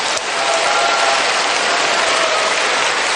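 Loud, sustained applause from a large church audience fills the space, steady and dense from start to finish with no voices rising above it.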